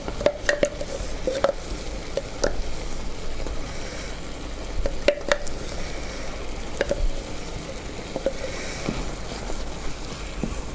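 Blended onion paste is stirred into a sizzling ghalawat kabab mixture in a pan, with a steady close frying hiss and repeated spoon scrapes and clicks throughout, no voices.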